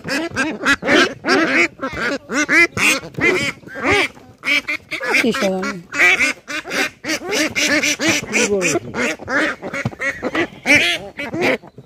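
Ducks at a home flock kept almost like a small farm quack repeatedly in nasal bursts, mixed in with steady close conversation that runs through most of the stretch.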